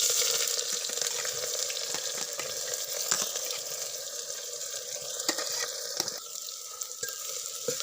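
Onions hitting hot oil with cumin in a home chicken recipe, giving a steady broad sizzle and crackle that runs the whole time at close range, with a few sharp clicks of stirring and no voices.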